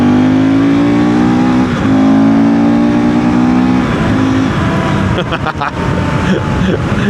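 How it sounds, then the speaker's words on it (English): KTM 390 Duke motorcycle single-cylinder engine with a stage 2 filter and water-safe airbox cover, loud close induction roar rising and falling through revs, riding on a wet road with mud tires. "let's listen to some induction noise again"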